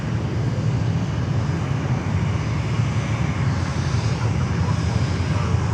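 A brand-new Spirit Airlines jet in special livery nears Fort Lauderdale Hollywood International Airport, its engines a steady broadband roar holding level throughout with faint voices underneath.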